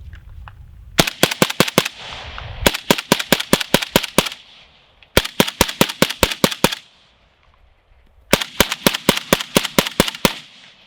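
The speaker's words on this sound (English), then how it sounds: "So let's start with pushing some rounds and rotating the rifle." Polish Beryl AK rifle firing 7.62x39 rounds in four rapid bursts of sharp, loud shots, separated by short pauses, with no talking.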